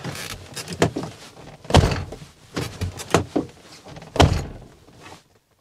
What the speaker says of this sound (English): The saggy door hinges are actually a monster pain in the butt.